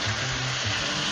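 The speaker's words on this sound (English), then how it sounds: "Now we're adding the white wine." White wine pours into a hot pan of bacon and chouriço with bay leaves and garlic, a steady loud hiss and sizzle with a low liquid gurgle, unbroken for about a second.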